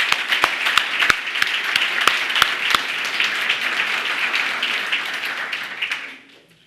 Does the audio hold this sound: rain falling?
no